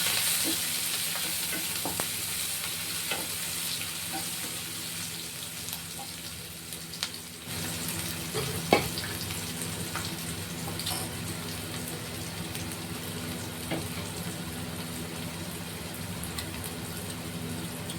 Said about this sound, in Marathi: कढीपत्ता टाकायचा, अद्रक लसूणची पेस्ट टाकायची, कांदा टाकून घ्यायचा आणि चांगलं परतून घ्यायचं